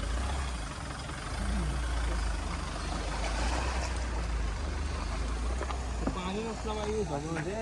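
A Mahindra Scorpio SUV crawls over rough off-road ground with a steady low engine drone throughout, and people talk over it near the end.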